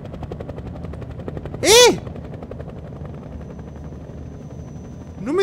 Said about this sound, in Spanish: ¿El helicóptero? ¿Dónde van?